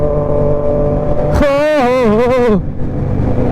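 A motorcycle engine, a Honda CB 125 Hornet, revs hard for about a second, its pitch climbing and wavering before dropping back to a steady idling drone.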